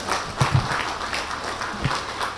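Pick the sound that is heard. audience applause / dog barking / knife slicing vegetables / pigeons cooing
audience applause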